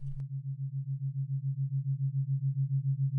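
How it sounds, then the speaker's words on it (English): Low hum from the iSleep Sphere sleep app, a steady deep tone pulsing in a regular vibrating rhythm, moderately loud and alone after a brief click at the start. "it has a low hum, and it sounds like it's vibrating"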